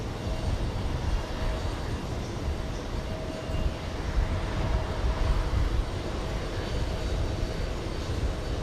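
CRJ 900 jet aircraft coming in to land at JFK, a continuous mid-level engine roar with a faint tonal whine, steady with no voices.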